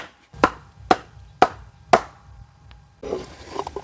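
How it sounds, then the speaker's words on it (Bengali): Four evenly spaced knife chops cut a whole skinned kuche fish (mud eel) into small pieces on a board, each blow sharp and close, followed by softer handling noises. "গোটা কুচে মাছটাকে কুচি কুচি করে কেটে নেব ছোট ছোট করে পিস পিস করে নেব"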